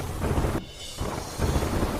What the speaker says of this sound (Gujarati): કુરંગાનીના જંગલ વિસ્તારમાં ધોધમાર વરસાદ